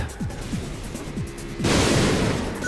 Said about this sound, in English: The muscle car crashed behind me